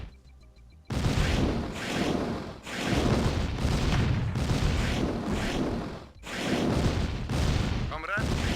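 Naval cruiser guns firing in Command & Conquer Red Alert Counterstrike, a run of loud, heavy broadband blasts in sustained bursts with brief gaps, rumbling low end, and a short whirring unit sound near the end.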